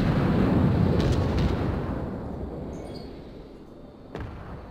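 Naval artillery in World of Warships: a heavy rumbling blast that slowly decays over several seconds, followed by a brief sharp impact near the end, with no talking.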